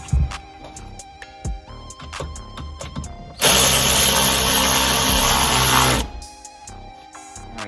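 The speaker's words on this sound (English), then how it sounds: "now we're just gonna feed this over the roll bar and bolt it right in" A power tool whirs loudly for about three seconds while bolting Mopar rear grab handles onto a Jeep Wrangler JL roll bar, framed by scattered clicks and metallic handling noises before and after.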